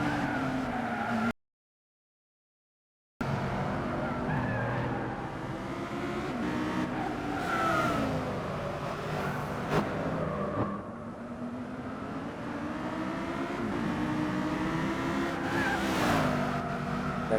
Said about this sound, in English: the noise of that V10 in the back of the Audi R8 LMS GT3